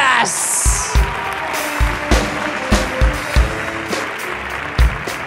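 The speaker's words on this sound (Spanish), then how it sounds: "fort aplaudiment per tots vosaltres!" Theatre audience applauding at a comedy improv show at the Teatre Coliseum, a broad clapping wash punctuated by heavy low thumps and bangs, with voices mixed in.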